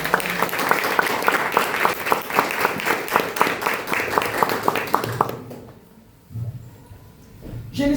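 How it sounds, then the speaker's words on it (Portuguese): A church congregation claps during a worship service, a loud, rhythmic burst of many hands in unison that fades after about five seconds, leaving quieter room sound and a brief voice. "aplauda o Senhor por essa palavra"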